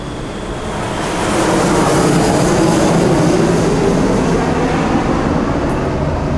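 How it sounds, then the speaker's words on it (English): An airplane flies overhead near a temple, its broad roar swelling over the first second or two and then holding loud and steady with no talk. "we have the planes over here."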